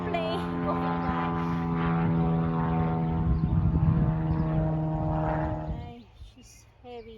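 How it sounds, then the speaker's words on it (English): A propeller airplane passes overhead in a garden, a steady droning hum that holds for several seconds and then fades away, with a voice talking faintly in the background. "There's an airplane going by."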